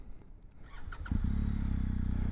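A 2021 BMW R1250GS Adventure 40th Edition motorcycle's boxer engine starts close by. A brief whirring crank catches into a loud, steady, low idle with no talk over it.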